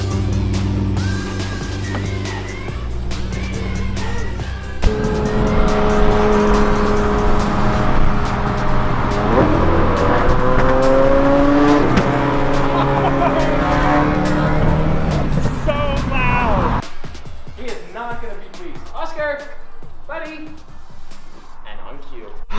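A car floors it and accelerates hard, its engine roaring loud and close through rising revs and gear changes before cutting off. People talk over the end.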